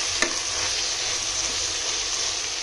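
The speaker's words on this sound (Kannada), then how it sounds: "ಶುಂಠಿ ಬೆಳ್ಳುಳ್ಳಿ ಪೇಸ್ಟು ಕೂಡ ಹಸಿ ಸ್ಮೆಲ್ ಹೋಗೋವರೆಗೂ ಫ್ರೈ ಮಾಡ್ಕೋಬೇಕಾಗುತ್ತೆ" Ginger garlic paste fries in a pan for a veg pulao, giving a steady, close sizzle that holds at an even level, with one faint clink near the start and no talking.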